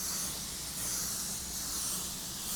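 A spray gun lays down a second coat of clear coat in a continuous close, loud hiss with slight swells in level, no talk.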